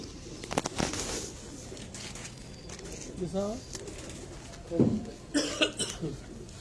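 Pigeons coo on a rooftop in a few soft, low rolling calls, with occasional nearby throat noises and faint voices in the background.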